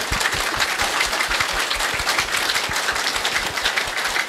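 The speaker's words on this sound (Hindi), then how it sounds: "ताली बजा रहे हैं तो सब ठीक से बजाइए।" Audience clapping at a birthday celebration, sustained dense applause from many hands filling the whole stretch at steady loudness, with no voices over it.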